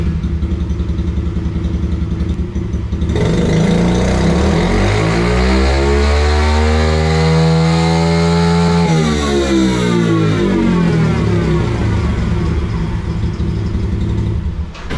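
A Yamaha TTR 110 pit bike engine, loud and close, idles briefly, then revs hard up to its 10,000 RPM rev limiter, holds near the limiter, and drops back down to a steady idle.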